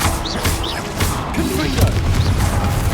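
An Incendio fire spell is cast in Hogwarts Legacy, a burst of whooshing, crackling impacts amid busy combat effects, with a shout over the top.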